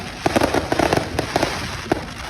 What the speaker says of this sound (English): setting off fireworks outside Tottenham's hotel